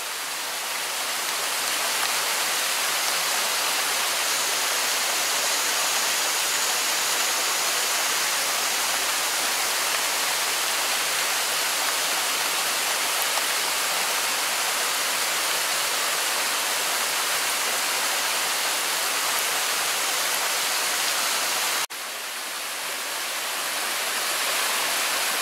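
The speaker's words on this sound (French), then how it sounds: "Des deux côtés de la finca, sur les deux extrémités, nous avons deux gros ruisseaux qui passent, qui ne se sèchent jamais." Two large streams that never run dry flow across a farm in Turrubares, Costa Rica, making a loud, steady rushing hiss that runs unbroken for the whole stretch, with a brief shift in tone near the end.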